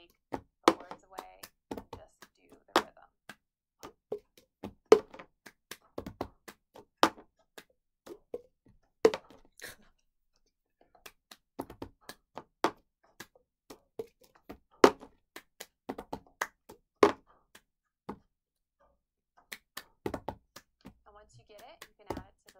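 Cup game rhythm performed on a table, with sharp percussive claps and hollow cup taps and slides in a steady repeating pattern, loud and close, with brief pauses between cycles.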